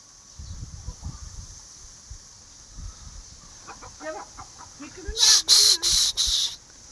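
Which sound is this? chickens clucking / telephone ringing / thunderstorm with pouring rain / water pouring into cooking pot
chickens clucking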